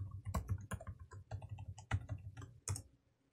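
Password being typed on a computer keyboard: a quick, uneven run of close, crisp key clicks and thumps over about three seconds, fading to quiet at the end.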